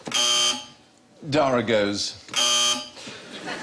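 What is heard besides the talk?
QI panel buzzer sounds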